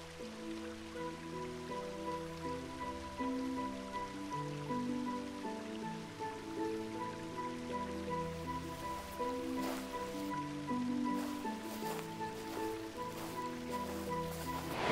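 Steady rain patters through a forest beside a river at the start of the rainy season, a soft continuous wash of drops running the whole time beneath a layer of sustained tonal background sound.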